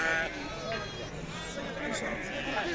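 Ewes bleating among sheep at a busy Tuesday livestock market in Azrou, with wavering calls rising over the crowd babble and someone talking nearby.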